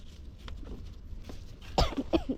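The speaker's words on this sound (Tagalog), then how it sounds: "Inuubo-ubo na mga kaibigan ko." A short, rough cough comes near the end, followed by a throaty sound, close by over a low background rumble.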